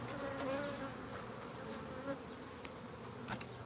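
Bees buzz around their hives, including Langstroth hives holding Apis carina colonies, a continuous soft drone with occasional nearer passes over faint outdoor background.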